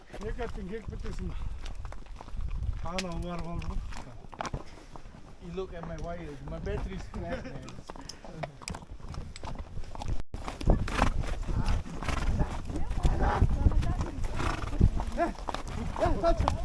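Horse hooves clop along steadily at a walking pace on a trail in the Tian Shan mountains, Kazakhstan, with people talking over them and a voice rising in pitched exclamations.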